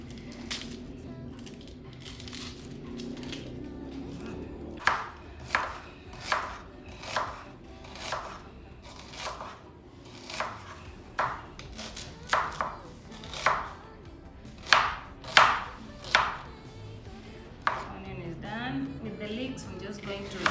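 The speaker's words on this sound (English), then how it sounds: "So I'll start with cutting the onion." Knife chopping an onion on a cutting board for steamed tilapia soup, a run of sharp, close, evenly spaced chops that grow louder midway, over a quiet low kitchen hum.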